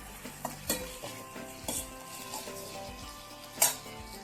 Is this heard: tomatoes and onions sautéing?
yes